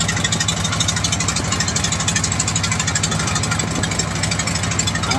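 Trawler boat engine chugs steadily near the Padma bridge on the Padma river, a loud, close, continuous knocking drone with constant vibration and no break across the stretch.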